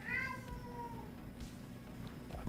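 A male cat meows in a room, a clear drawn-out cry at the start that trails off, followed by a quieter steady room hum with small knocks.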